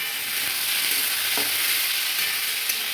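Potatoes frying in tempered, spiced oil for a homestyle aloo chorchori, a steady close sizzle with faint stirring scrapes throughout, no talking.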